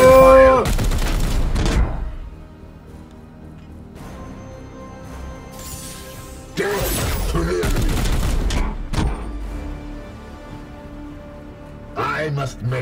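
A gunfire volley in the video game Chaos Gate: Daemonhunters comes as a few loud, dense bursts with quieter spells between, with game voices and effects around them.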